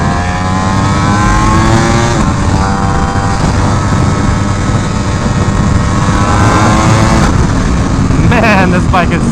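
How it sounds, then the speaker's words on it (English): A Ducati Superleggera V4 motorcycle roars loudly, its engine note climbing and shifting as it accelerates past, with a steady wind-and-road roar throughout and people's voices faintly mixed underneath. "Man, this bike is so fast."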